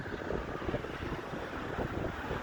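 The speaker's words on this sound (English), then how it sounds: "it's fairly windy out right now" Wind buffets the microphone outdoors beside a Pit Boss Sportsman 1100 pellet grill during its first burn-off, with a constant low rumble and a broad, rough noise. There is no talking.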